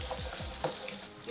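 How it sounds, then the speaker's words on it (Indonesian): Bakso meatballs, boiled and then fried in a pan, giving off a steady sizzle with a few brief stirring clicks and scrapes, close by and at moderate volume. "Baksonya tuh udah harus dalam keadaan digoreng gini."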